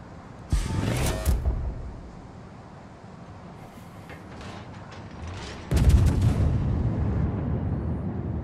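Main guns of the Giulio Cesare battleship fire in a naval warfare video game: a heavy booming salvo early on, a quieter stretch, then a second loud blast that leaves a sustained rumble.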